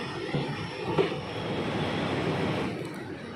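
A goods train arrives at Ghaziabad railway station, a steady low rumble of wagons rolling past at moderate distance, fairly faint and even throughout, with no voices over it.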